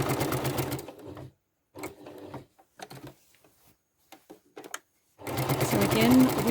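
A sewing machine stitches quilt layers with a walking foot, running in loud bursts at the start and end with short pauses and quieter stop-start stitching between.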